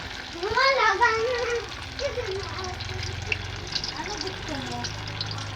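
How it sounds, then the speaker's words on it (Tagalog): Sweet potato pieces frying in hot oil give a steady low sizzle throughout, partly covered by people talking, including a voice, near the start. "Kailangan sa simula malakas muna ang mantika."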